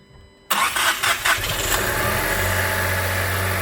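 Nissan Rogue T33 with a 1.5 KR15DDT engine, fitted without radiators, cranks and catches abruptly, revs briefly, then settles into a loud, steady idle close by.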